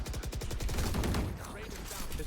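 Rapid gunfire in the Valorant video game, a fast run of shots at the start that fades into softer scattered noise, heard at moderate level.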